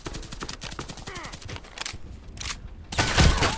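Gunfire in the Contract Wars shooter game comes as rapid automatic bursts of sharp shots, close and punchy, with pauses between bursts and a louder volley near the end, a voice speaking intermittently over it.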